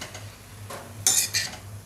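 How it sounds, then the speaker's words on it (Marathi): Bhogi vegetables being stirred in hot oil in a pan, with a steady low sizzle and a few sharp metallic scrapes and clinks of a spoon against the pan. "थोडीशी अशी तेलामध्ये परतवून घेते ही भाजी"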